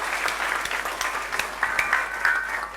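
A school audience at a high school student awards event applauds loudly, a continuous wash of many hands clapping with faint whoops rising over it, no speech.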